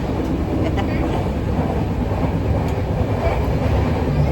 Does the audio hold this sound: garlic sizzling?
no